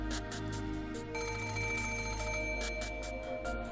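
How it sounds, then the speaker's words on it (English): A telephone rings in the Umineko When They Cry video game, a steady electronic trill repeating in short bursts over a constant low background hum, clear and moderately close. "Okay, a phone."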